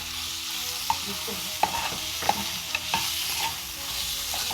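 Three tomatoes fry in a kadai paneer masala paste while a spoon stirs them, producing repeated knocks and scrapes against the pan over a continuous close sizzle.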